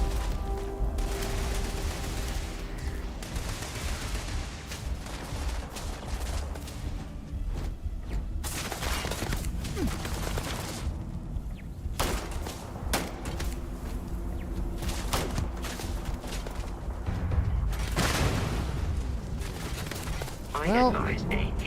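A turret opens fire in Starfield, repeated bursts of gunfire and heavy thuds across a busy combat scene, with voices talking over the shooting.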